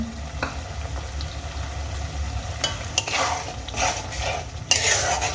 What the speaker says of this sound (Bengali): এবার আমি মশলার সঙ্গে খুব ভালো করে দেখো সর্ষে বাটাটা মিশিয়ে নিয়েছি